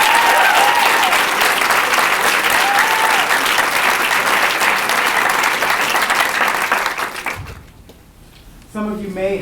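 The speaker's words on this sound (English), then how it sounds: "I would like to give a round of applause to Rudy Mondragon, who started this event here." An audience at a diversity monologue event gives a loud, sustained round of applause for about seven seconds, which then cuts off abruptly; after a short lull a voice starts speaking.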